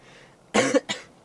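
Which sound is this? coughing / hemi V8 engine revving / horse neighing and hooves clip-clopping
coughing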